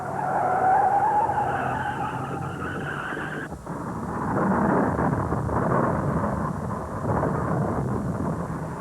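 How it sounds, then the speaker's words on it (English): A stock car skids out of control in traffic at Darlington Raceway during the 1970 Southern 500, a long rough roar of sliding tires and engine noise with a brief squeal early on, loud and continuous with crowd din. "Yarborough's lost control."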